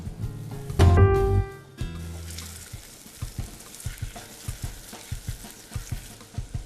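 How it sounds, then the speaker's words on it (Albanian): Rice toasts in a pan for spinach risotto. A loud clatter opens the sound, then a sizzle crackles and ticks in an irregular rhythm, close by, with no talking. "tani do lëm të skuqet pak orizi dhe më pas do i shtojmë nga lëngu"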